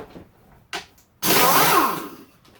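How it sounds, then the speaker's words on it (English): A power tool works on the bottom subframe bolts of a Yamaha YZ125 dirt bike, with a short blip, then a loud, sustained whirring burst of about a second that tapers off, after faint workshop clatter. "All I'm doing there is just taking off the bottom subframe bolts"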